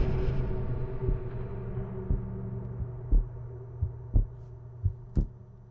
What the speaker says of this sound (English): there's a heartbeat effect